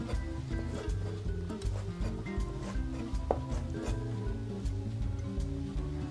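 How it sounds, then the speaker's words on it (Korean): A knife chops seaweed on a cutting board into rough 1–2 cm pieces during Japanese cooking prep, giving a steady run of fast, close, crisp knocks with no talking. "칼로 이용하셔서 듬성듬성 1cm에서 2cm가 되도록 썰어서 준비를 할게요."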